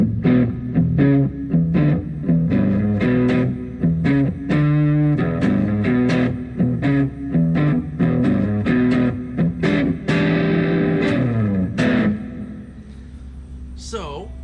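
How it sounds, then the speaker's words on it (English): Electric guitar played through effects pedals into an amplifier: loud, sustained, processed chords and notes with a distorted, effected tone, played continuously for over ten seconds before fading. "what you just heard was the electric guitar signal coming out of this guitar"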